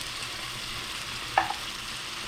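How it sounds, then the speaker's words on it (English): Seasoning sautéing in a little olive oil in a pot gives a soft, steady sizzle close by, broken once by a brief clink of a utensil against the pot. "Now here I'm sauteing my season. I just put a little olive oil in the pot."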